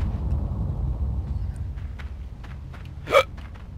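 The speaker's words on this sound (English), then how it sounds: "Oh, I got the hiccups" A single hiccup from a player of the game Limbo, a short sharp gulping catch near the end, heard over a low rumbling game background.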